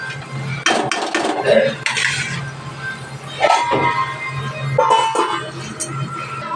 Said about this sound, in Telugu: కొంచెం మగ్గనిద్దాం, మూతేసుకుందాం.